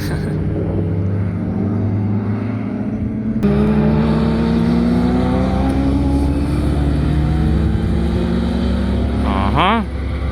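A Renault Megane RS race car engine on a track drones loudly with rising and falling pitch as it accelerates and brakes, a sharp whine sweeping up near the end.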